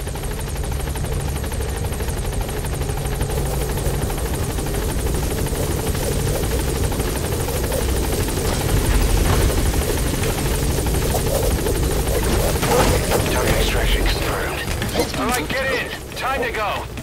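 Rotor noise of the Pequod helicopter in Metal Gear Solid V: The Phantom Pain, a steady loud thrum and whir holding throughout while it waits at a landing zone, with game voices over it and a brief burst of distant gunfire-like noise near the end.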